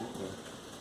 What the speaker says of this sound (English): Yeah, it is hail. Hail's coming down.